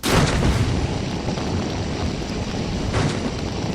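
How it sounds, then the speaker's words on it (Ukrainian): A grenade blast in S.T.A.L.K.E.R.: Shadow of Chernobyl, inside the X-18 laboratory: a loud boom at the start that decays into a long rumble, with a second, weaker thud about three seconds later. "Цього разу я і гранату добре кинув."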